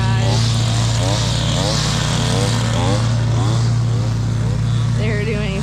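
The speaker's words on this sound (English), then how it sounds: "revving it up for us" A Bad Boy lawn mower engine drones steadily and loudly throughout, revving up while several people talk over it nearby.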